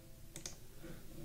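A pair of quick computer mouse clicks sound close together near the start, sharp and fairly faint over a low room hum, followed by quiet background noise.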